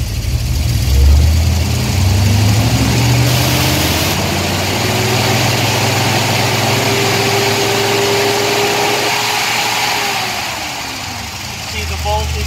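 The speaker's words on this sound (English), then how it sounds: "Let's raise the idle." A Chrysler car engine idles and is then revved up to a higher steady idle during a charging system test, a smooth continuous hum that rises and later drops, with someone talking over it.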